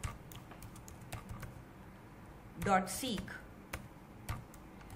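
Keystrokes on a computer keyboard while writing a text file in Python: light, irregular clicks scattered throughout, with a brief spoken word in the middle.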